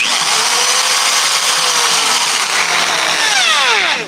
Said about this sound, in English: I just didn't want to be blasting the drill super loud for a long duration of time